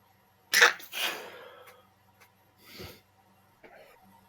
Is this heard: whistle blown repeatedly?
no